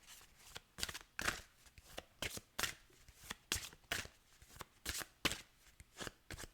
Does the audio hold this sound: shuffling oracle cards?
yes